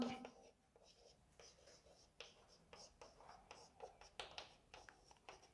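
Faint chalk or marker scratches on a board during a matrix theory lecture come in short, irregular strokes and taps, with soft voice sounds in the background.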